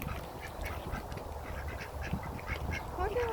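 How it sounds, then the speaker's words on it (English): Ducks at a hot springs duck pond beside private soaking tubs in Tonopah, Arizona, give repeated nasal quacks in a loose rhythm, near and fairly clear over low background noise. "So there's actually a duck pond in there with ducks alongside"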